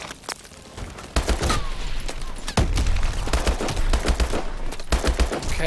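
Rapid bursts of gunfire in the Call of Duty: Advanced Warfare campaign mission Collapse, sharp automatic volleys and single shots firing repeatedly throughout, loud and close with no talking.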